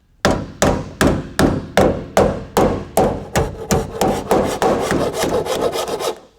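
A pinch weld on an '83 El Camino being flattened, with a steady series of about twenty sharp metallic hammer blows, evenly paced at first and then quickening, loud and close.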